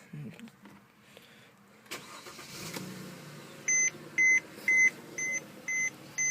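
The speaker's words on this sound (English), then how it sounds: "I think I'm going to go ahead and start the vehicle." A 2011 Mercedes-Benz C300 cranks and fires up close by, settling into a quiet idle, followed by a string of six evenly spaced electronic chimes from the car.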